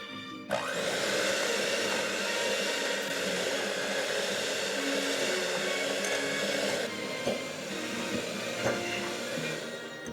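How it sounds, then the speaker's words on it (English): A hand mixer beats butter with brown sugar for pomegranate cookies, its loud, continuous motor whir steady throughout with a slight shift in pitch partway through. "I'm gonna take my hand mixer and I'm gonna beat this until smooth"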